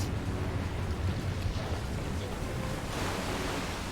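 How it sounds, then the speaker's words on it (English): Water rushing and flooding in fast inside a submarine in Resident Evil 6, a steady broad roaring wash that swells slightly toward the end, with no talking. "Water's coming in fast."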